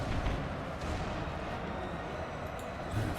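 Artillery guns firing in a Napoleon: Total War battle sound as a dull, continuous distant rumble with muffled booms near the start and end, fairly faint and with no voices.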